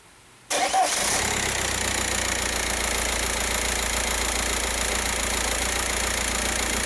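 A VW Passat with the BHW diesel engine cranks and catches after a short silence, then settles into a loud, steady, slightly knocking idle heard up close with no talking.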